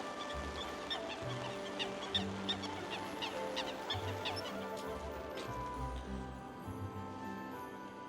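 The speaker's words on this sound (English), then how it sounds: "we've got some ducks there, really happy, sitting in the rain, swimming about, exploring" Ducks on a park lake at Bathpool Park in the rain give scattered quacks and honks against a steady outdoor wash, with a low droning layer underneath and no clear talk.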